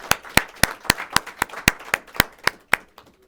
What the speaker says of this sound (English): Go ahead, you can applaud.